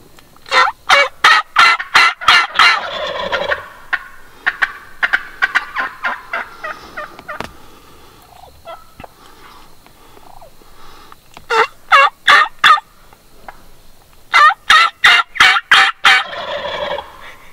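A male wild turkey gobbles loudly and close in South Carolina, in repeated rattling bursts separated by quieter pauses, several rounds over the stretch.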